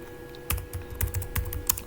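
Search being typed on a computer keyboard, a quick run of crisp key clicks in small bursts, close and clear over a faint steady hum.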